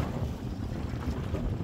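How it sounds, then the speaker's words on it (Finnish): Strong wind buffets a small fishing boat out trolling for salmon on open water in snowy weather, a steady loud rush of wind noise with low rumble and no talking. "Kyllä tuo on aika paljon tuulee."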